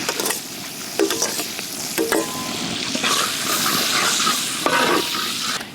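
Crushed ginger and garlic, with curry leaves, hit hot oil and sizzle loudly while a spoon scrapes and stirs the pan in several distinct strokes.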